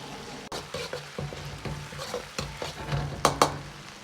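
Soaked Sichuan peppercorns and Pixian bean paste stir-fried in a wok, with quiet sizzling broken by repeated scraping and knocking of the spatula against the pan, close and moderately loud.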